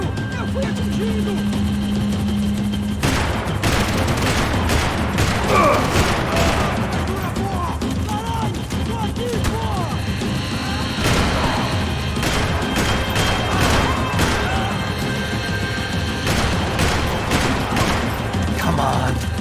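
Gunfire in the Max Payne game during a chase, bursts of shots and crashing impacts over a droning engine or rotor, with voices shouting in the scene throughout.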